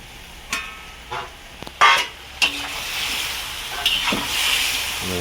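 Fish going into a wok of reduced sauce for stir-fried tau see, with sharp clatters of utensils against the pan and a building sizzle and bubbling that swells toward the end, close by and with no talking.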